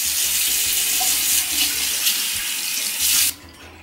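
Water runs steadily from a bathroom sink tap during a skincare face wash, a loud close gush that cuts off abruptly near the end.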